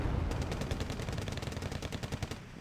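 Rapid burst of automatic gunfire from an M1 IP Abrams tank in the war strategy game Wargame: Red Dragon, a dense string of sharp, evenly spaced shots lasting a few seconds.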